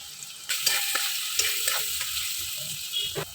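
Onions frying in plenty of oil in a pan, a bright continuous sizzle close by with occasional soft stirring knocks, no talking.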